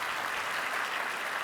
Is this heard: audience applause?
yes